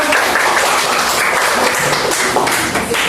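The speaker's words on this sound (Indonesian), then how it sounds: "Tepuk tangan untuk kelompok 2." A class audience claps together for a student group's presentation in a dense, continuous burst of applause, loud and close, without pause.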